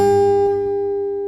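Two guitar notes plucked with the thumb ring together and sustain, fading slowly and evenly with a soft attack.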